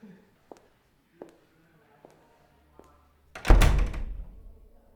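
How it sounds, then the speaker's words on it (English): A door closes with a solid, heavy thud that rings out and fades, preceded by a few soft footsteps on a quiet floor. "go and close the door"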